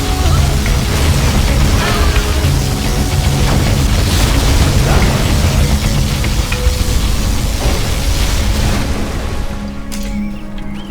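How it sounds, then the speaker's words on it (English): A particle cannon strikes in the strategy game C&C Generals Zero Hour: a loud, sustained rumbling blast that roars steadily for several seconds before easing off near the end. "Warning, particle cannon detected. Particle cannon activated."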